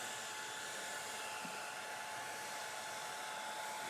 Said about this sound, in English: We use the hairdryer.